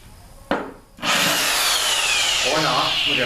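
A brand-new Harbor Freight drill set to hammer mode gives one sharp knock, pauses briefly, then starts and runs at full speed with a harsh, loud, continuous hammering whir, heard up close.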